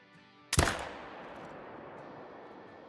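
A single loud hunting rifle shot cracks in a Call of the Wild hunting game, followed by a long rolling echo that slowly fades.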